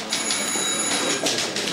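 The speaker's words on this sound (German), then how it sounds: "Telefon für Sie." A telephone rings in a German police office, a steady electronic bell trill running throughout at close range with a brief dip and resumption partway.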